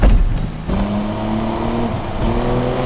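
Car engine in a manual-transmission car lugging at low RPM, a deep bassy drone with steady low harmonics that shift pitch slightly as it strains along, close and continuous with no talk.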